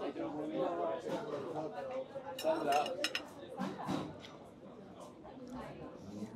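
Light clinks and scrapes ring out as a knife cuts a smoky beef saveloy sausage on a plate, several short metallic taps mixed with talking nearby.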